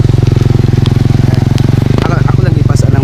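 A motorcycle engine running close by with a steady, rapid pulsing thrum, loud and continuous, with people talking over it.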